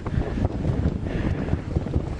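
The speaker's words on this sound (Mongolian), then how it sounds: "Гадаа айгуу салхитай байна." Strong wind roars steadily outdoors and buffets the microphone with a continuous low rumbling rush. No voices are heard.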